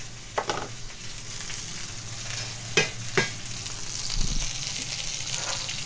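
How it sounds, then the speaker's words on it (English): A fish fillet fries skin side down in foaming butter over moderate heat as it is basted, producing a continuous close sizzle broken by a few sharp spoon or pan knocks. "So I'm just going to pop that back, skin side down, but we're going to add a knob of butter to that now"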